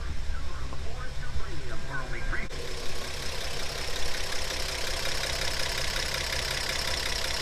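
A 1947 Chevy Stylemaster Coupe engine cranks and catches, then settles into a steady, fairly loud idle rumble, with someone talking briefly near the start.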